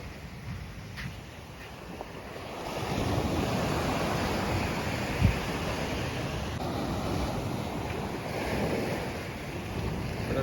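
Broad, steady roar of surf washing ashore, swelling and easing in long surges, mixed with gusty wind buffeting the microphone; no voices.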